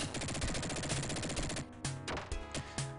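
Machine gun fire from the Dick Tracy video game on the Sega Genesis, a fast rattling burst of chiptune shots that gives way to a few separate, spaced-out blasts.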